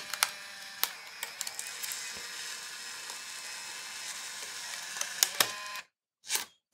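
A Fujifilm Instax Mini 11 instant camera ejects its dark slide: a steady mechanical whir with small clicks runs for several seconds, then stops abruptly, followed by one short burst of motor noise.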